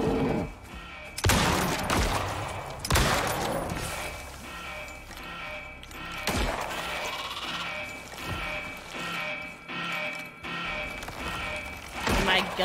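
A gun fires in the video game Icarus, several loud separate shots spaced a few seconds apart over wind and game noise, with a voice talking in between.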